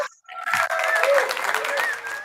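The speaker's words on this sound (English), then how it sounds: "Let's give a round of applause to Nikhil Baga." An audience breaks into a burst of applause at a business community open house. The clapping starts abruptly after a brief quiet moment and continues as steady, dense, full-room clapping to the end.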